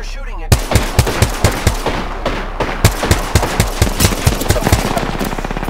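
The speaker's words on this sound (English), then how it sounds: "Opening fire on the enemy." Rapid automatic gunfire in Apex Legends, loud and close, with sharp evenly spaced shots firing in fast rhythmic bursts over several seconds with only brief breaks.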